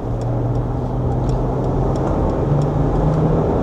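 A Mercedes-Benz G400d diesel pulls away smoothly in comfort mode at light throttle, its engine a steady, muted drone with road rumble and no sharp revving throughout.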